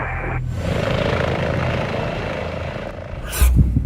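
A helicopter's engine and rotor drone steadily at close range, ending with a sudden burst of noise.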